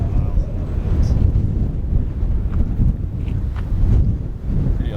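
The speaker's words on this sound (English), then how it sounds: "I don't know if you guys can even hear me, it's so windy." Strong wind at Lake Sabrina buffets the microphone in a steady low roar with gusting surges throughout, loud and close, with no voice breaking through.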